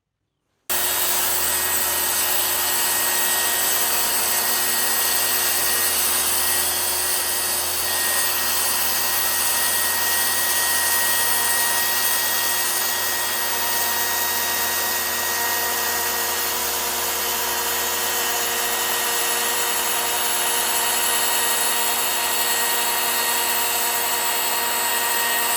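A jointer edge-planing thick 8/4 black walnut boards drones steadily and loudly for the whole stretch, a constant high machine whine with no talk over it.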